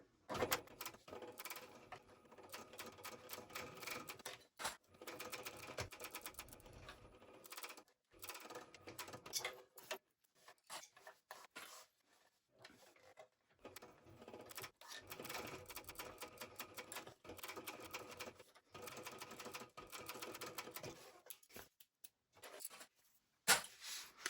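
Sewing machine stitching a seam on a small wallet, running in quiet bursts of rapid mechanical stitching with brief pauses between runs, near and soft, no voice.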